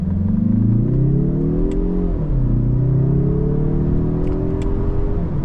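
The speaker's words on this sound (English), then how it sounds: "do kind of a full throttle acceleration, manual mode now from first gear" A 2025 Mazda 3 Turbo hatchback engine revs hard under full throttle in manual mode from first gear, pitch climbing steadily, dropping briefly at a gear change, then rising again in a long loud pull.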